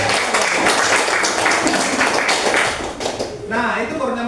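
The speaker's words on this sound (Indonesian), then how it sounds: "Tepuk tangan dulu ya." Applause in a classroom, a burst of loud, close clapping from a group of students that thins out after about three seconds, when a voice starts speaking.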